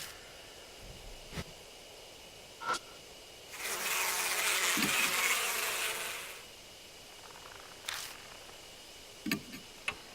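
A swarm of bees in the Death Mark horror video game swells into a dense buzzing drone for a few seconds, then fades, with scattered sharp clicks and ticks before and after.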